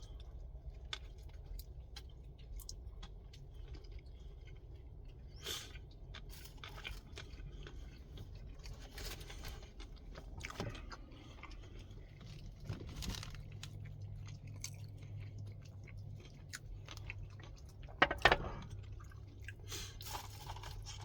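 Someone chews a McDonald's McDouble burger inside a van, making soft, close, irregular bites and chews over a quiet background, with a brief louder rustle near the end.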